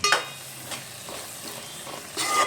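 Coarsely pounded garlic paste sizzles in a pan while an instant tomato chutney is cooked, a short burst of frying with a few spoon scrapes, nearby and quiet, no voices.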